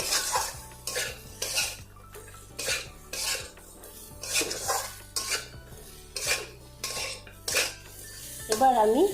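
Ridge gourd and drumstick pieces are stir-fried in a pan with a metal spatula, bringing repeated scraping and clanking strokes in an uneven rhythm, close by, with faint sizzling underneath.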